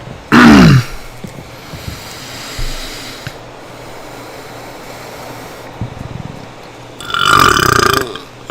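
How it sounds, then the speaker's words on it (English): Two loud, drawn-out burps, one right at the start and another near the end, standing out over a steady low hum of background noise. "I'm burping up there."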